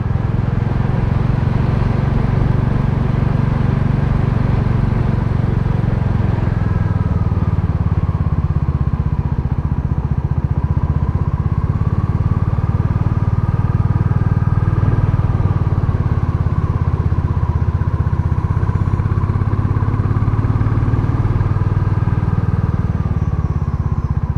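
Royal Enfield Classic 350 motorcycle riding at a steady pace, its single-cylinder engine a continuous loud, low thumping drone with faint wind rush and no talking throughout.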